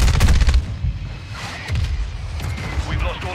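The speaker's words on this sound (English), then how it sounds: "Hostile mortar strike incoming." A mortar strike in Call of Duty MW2 multiplayer sets off a burst of heavy booms and rapid gunfire, loud and dense at first, then rumbling blasts that keep going at a lower level.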